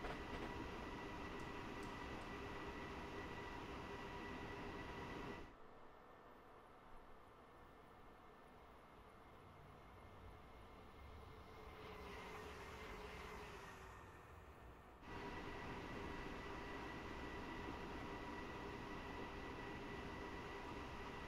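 A train on the line from Munich to Garmisch-Partenkirchen rumbles steadily at moderate level, dropping quieter for a stretch in the middle before the fuller running noise returns, with a faint high whine above.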